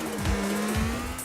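Street-racing cars in Grand Theft Auto IV, engines droning loud and close while several sharp pitch-sweeping tire squeals and passing whooshes cut across.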